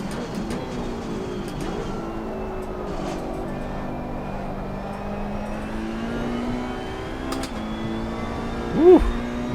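A race car engine from the Italian cars of the Assetto Corsa Competizione Challengers Pack, running on a full fuel load: a steady, loud engine drone that climbs in pitch as it accelerates, ending in a sharp rising rev.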